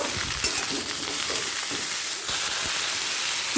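Taro, radish and jackfruit pieces fry together in a pan for a Bengali chhechra, a dense, loud, continuous sizzle with faint stirring scrapes and no voices.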